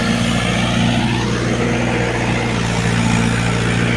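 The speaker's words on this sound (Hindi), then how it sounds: "ये देखो ट्रैक्टर आ चुका है, अब इस खेत में गोल कटेगी" A tractor works a farm field, a loud, close, continuous engine drone holding steady throughout with no voices.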